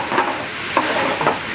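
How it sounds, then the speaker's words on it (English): Chicken stir fry sizzles in sauce in a pan, a loud steady hiss broken by a few bubbling pops and stirring scrapes, close up and without talking. "I'll finish cooking the chicken in the sauce, like that."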